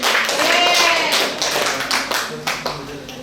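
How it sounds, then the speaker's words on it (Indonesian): A classroom audience claps for a group after a presentation, a dense burst of applause that quickly thins into a few scattered claps. "Oke, kasih aplaus dulu buat kelompok 1."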